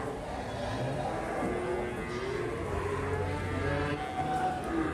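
A female Simmental cow lows in a long, steady moo lasting several seconds, close and fairly loud, with faint outdoor background noise beneath it and no one speaking.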